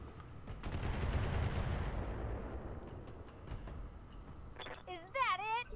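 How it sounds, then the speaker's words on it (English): Mech machine guns firing in the Roguetech BattleTech game, a dense rattling barrage that swells loud in the first couple of seconds and then trails off into rumbling echoes, with a short whining tone near the end. "Gonna crank out the machine guns"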